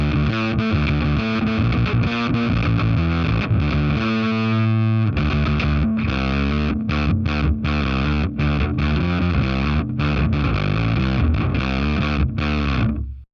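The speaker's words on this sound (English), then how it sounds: "we're really getting into that nice fuzzy territory with it all the way up" Bass guitar through a Fender Pelt fuzz pedal with fuzz all the way up and the thick switch off, playing a loud, gritty distorted riff of choppy notes and short pauses, alone without talking.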